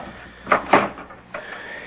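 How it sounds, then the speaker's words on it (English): A door is opened in a 1975 radio mystery drama: two quick knocking or latch clicks close together, then a softer click with a faint creak, all alone with no talk. "Would you open the door, please?"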